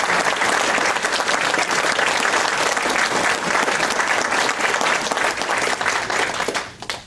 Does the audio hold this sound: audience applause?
yes